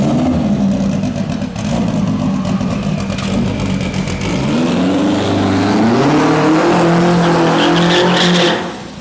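A 1200HP Honda S2000 drag car's engine roars loud and close, holding a harsh high-revving note that climbs and sweeps upward before cutting off abruptly at the end.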